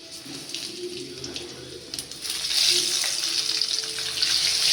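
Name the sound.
cumin seeds added to hot oil, sizzling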